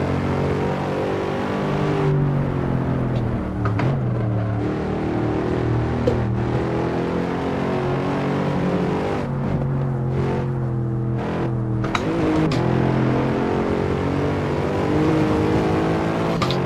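Race car engine in Assetto Corsa, a loud, sustained engine drone that climbs in pitch through the gears, with brief drops at upshifts around every couple of seconds and a steady roar throughout, no talk.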